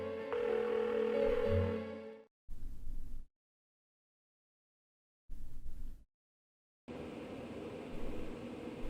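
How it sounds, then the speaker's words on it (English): Unanswered phone call in the Persona 4 video game: bursts of ringing tone with musical hum, then silence, short burst, long gap, then a steady noisy tone returning. "Why won't she pick up the phone?"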